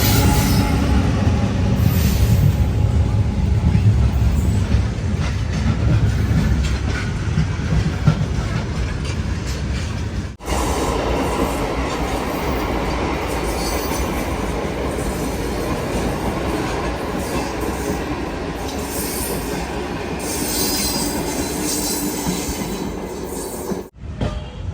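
A train at a railway station near Sarnath, Varanasi, gives a loud, continuous rumble with rolling wheel clatter and faint squeals throughout, briefly interrupted by two sharp breaks in the sound.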